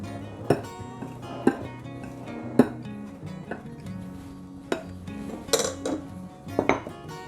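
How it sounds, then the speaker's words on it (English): A utensil clinks and taps against a bowl while dry ingredients for a Finnish Runeberg torte are mixed, giving several sharp, irregular metallic knocks over soft scraping, close and fairly quiet. "So mix all the dry ingredients together."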